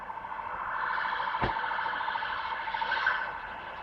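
An ambulance siren wails steadily at a distance, sounding muffled behind buildings, and keeps a rising and falling tone for several seconds over faint background noise.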